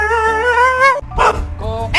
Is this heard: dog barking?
yes